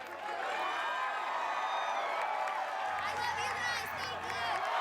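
Arena crowd at an American Ninja Warrior finals course in Dallas, a dense continuous roar of cheering and whooping that holds steady and loud throughout, with commentary talk over it.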